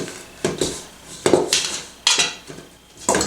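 Oatmeal and Rice Krispies being stirred into stiff cookie dough for Cracker Jack cookies with chopped peanuts: a spoon knocks and scrapes against the bowl in about six distinct, uneven clacks, close and fairly loud, with no talking.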